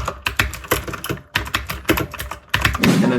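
Fast typing on an old mechanical keyboard with blue-style switches gives a close series of sharp, clicky keystrokes in uneven bursts, ending with a brief rattling flurry.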